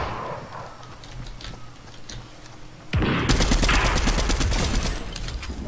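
A gun fires in Fortnite: after a quiet, muffled stretch, a sudden loud burst of rapid automatic shots rattles on steadily to the end, close and dominant.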